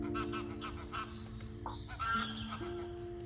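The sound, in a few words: geese honking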